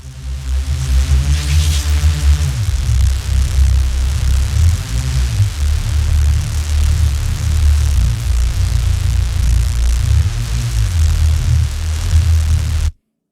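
A monstrous Reese bass synth built from mid and low layers drones heavily, a thick throbbing low tone with sliding pitch movements, sustained loud for about thirteen seconds before cutting off abruptly.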